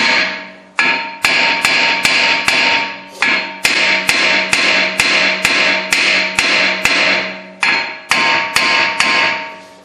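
A hammer pounds a front brake rotor on a Lexus/Toyota to knock it loose, about fifteen loud, close metallic strikes in a steady rhythm, each ringing briefly before the next.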